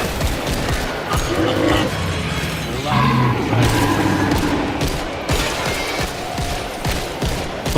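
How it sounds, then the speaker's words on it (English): Dual .50 caliber Desert Eagle pistols fire in a zombie shooter video game, loud repeated gunshots mixed with chaotic combat noise and thuds, with a voice talking over the action. "Oh yeah, my dual Desert Eagles, 50 caliber hand cannons, just like the good old days."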